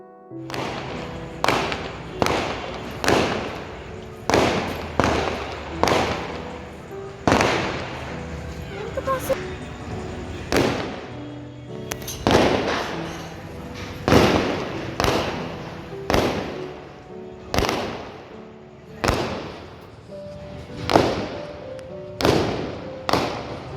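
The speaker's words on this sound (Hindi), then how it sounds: "ये जो आतिशबाजी आप देख रहे हो, ये उस वजह से हो रही है।" A long run of firework bangs and crackling bursts at a wedding procession, fairly far off, popping irregularly every second or so for the whole stretch.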